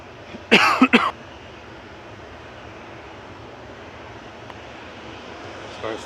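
A couple of quick coughs close to the mic at a plane-spotting spot by Manchester Airport, followed by a faint murmur and low steady background rumble.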